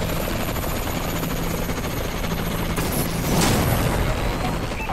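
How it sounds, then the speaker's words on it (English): A Warbird aircraft flies overhead in a video game: a loud, constant rotor-like engine roar with bursts of gunfire rising toward the end. "Friendly Warbird in the air."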